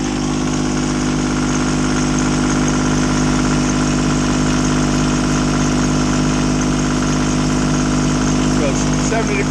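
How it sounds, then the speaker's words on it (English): A boat motor running steadily at idle-like speed on the Intracoastal Waterway near Great Bridge Lock, a constant loud droning hum with no breaks throughout. "Motor's running at 150."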